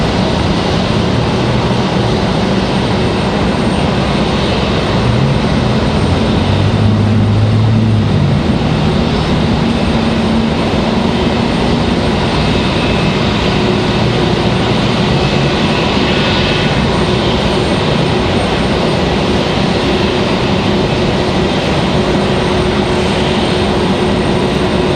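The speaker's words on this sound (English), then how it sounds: "As JetBlue returns to the gate once again." A JetBlue airliner taxis back to the gate at Raleigh-Durham airport, its engines giving a steady, continuous roar and rumble that holds at a fairly even level throughout, with no voices.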